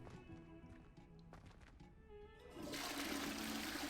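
A toilet flushes in the wizarding video game Hogwarts Legacy. It starts as a loud, steady rush of water that builds and keeps going under faint game sounds and a short spoken phrase.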